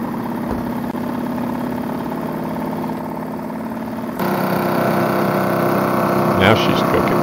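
A running steam engine on a large steampunk model battleship whirs steadily and grows louder and busier partway through, with a brief knock near the end; someone talks over it.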